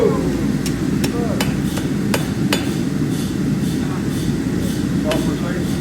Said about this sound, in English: I'm gonna place the hammer right there. That's where you, yep, hit it hard.